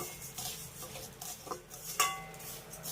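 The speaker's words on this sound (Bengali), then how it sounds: "প্রায় দশ মিনিটের মতো সময় নিয়ে এইভাবে অনবরত নেড়ে চেড়ে চালটাকে দেখুন" Dry basmati rice being stirred in a pan with a spoon, giving soft, continuous scraping and rustling at low volume, with a brighter clink against the pan near the end.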